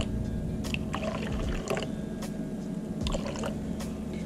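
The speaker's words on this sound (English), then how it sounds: "Pour slowly so you don't create too many bubbles." Distilled water pours steadily into a bottle in a low, bubbling stream, with faint glugs and small splashes throughout; no talking.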